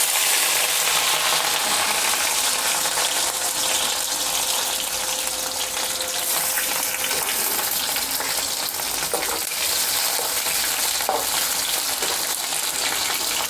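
Paneer and capsicum fry in a kadai with a continuous, close hissing sizzle that holds steady and loud throughout, with no voices.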